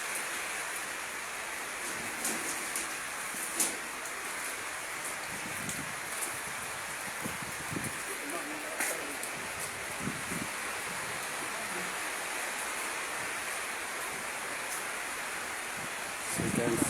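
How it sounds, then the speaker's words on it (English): Steady rain falls on a construction site during rebar work, a dense even hiss with scattered drop patter throughout, no talk. "you can see it's raining, so we have paused for now until the rain stops"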